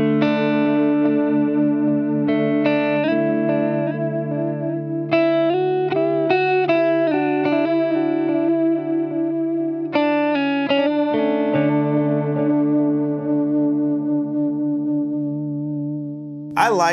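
Electric guitar chords and melodic lines played through a TC Electronic Triple Delay pedal's modulated delay, repeats smearing into a wide, shimmering wash with mild distortion, continuous and fairly loud for about seventeen seconds.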